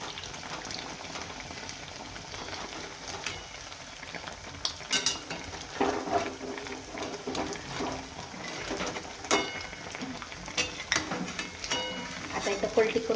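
Sabudana vada deep frying in hot oil, a continuous bubbling sizzle with scattered pops and metal scraping as the vadas are turned.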